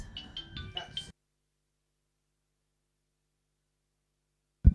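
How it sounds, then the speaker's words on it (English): A mobile phone rings in short repeated electronic tones at a mounted games arena, mixed with crowd noise and talk for about a second before everything cuts to silence, then a brief low thump at the end. "It's Alan's phone is ringing at the moment."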